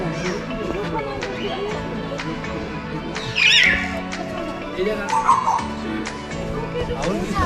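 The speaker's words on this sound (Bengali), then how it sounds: "আসলে এগুলো পাখির ডাক" Birds call loudly at the Padmaja Naidu Himalayan Zoological Park in Darjeeling, with shrill, child-like cries rising in brief bursts over a constant murmur of voices and crowd noise.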